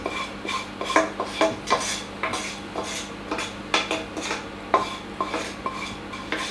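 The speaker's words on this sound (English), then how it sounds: "Into a large bowl, your onion and pear mixture goes." An onion and pear stuffing mixture is scraped and spooned into a large bowl, with repeated clinks of utensil against the bowl and soft stirring scrapes in an irregular rhythm, close and fairly quiet.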